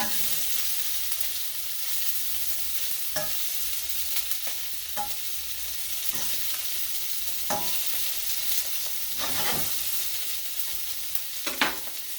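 Shrimp frying in hot oil for a po boy, a steady dense sizzle with scattered sharp pops and occasional stirring, close and continuous throughout.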